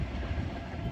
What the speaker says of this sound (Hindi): कराची के एंड की तरफ जा रही है तेजी के साथ मेहरान